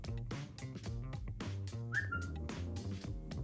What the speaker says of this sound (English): I like that whistle. I think that's the notification sound.